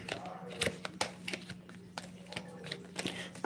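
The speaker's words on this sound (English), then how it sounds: "I'm going to shuffle one more time." A deck of cards is shuffled by hand during a tarot-style reading, giving quick papery riffles and soft slaps in an irregular run of bursts up close, with a low steady hum underneath.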